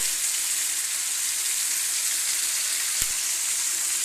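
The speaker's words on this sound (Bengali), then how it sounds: "দেখো বন্ধুরা, মাংসটা কষা হচ্ছে" Meat frying with turmeric and chilli powder, a dense, steady sizzle that runs unbroken throughout, with one brief knock near the end.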